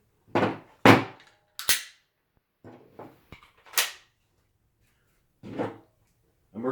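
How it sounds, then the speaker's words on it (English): A pistol is reloaded from slide lock with an empty magazine, a series of sharp metallic clacks and snaps spaced irregularly, close and loud against silence. "Emergency reload from slide lock."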